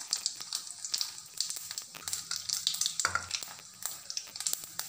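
Mustard seeds and urad dal crackle and sizzle in hot oil while cooking a cabbage and green peas stir-fry, with quick irregular pops and spatters, close and fairly quiet.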